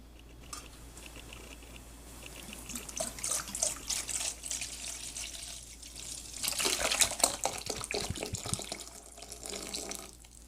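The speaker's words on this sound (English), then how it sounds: "And I'm going to pour it into this bowl that is very, very cold" Supercooled liquid poured from a bottle into a very cold bowl, a steady trickling splash that swells in the middle and carries on for several seconds at close range, with no talking.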